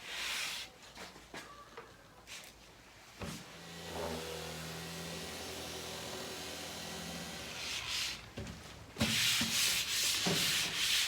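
Sandpaper rubbing across a wooden shelf, working through 120 then 180 grit, with a steady close scratching that swells into bursts of brisk strokes, alone without talk.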